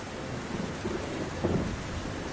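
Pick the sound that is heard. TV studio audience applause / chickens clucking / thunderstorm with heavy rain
thunderstorm with heavy rain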